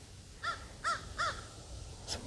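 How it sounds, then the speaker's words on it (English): Crows caw from up in the trees around a small family cemetery plot, three distinct harsh calls spaced evenly, then a fainter, shorter call at the end, all moderately distant over a quiet outdoor background. "some crows up there."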